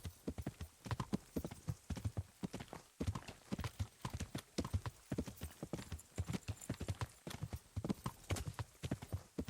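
Steady clip-clop of horse hooves at a brisk gait in the video game Kingdom Come: Deliverance, rhythmic and close, continuing throughout with no voices.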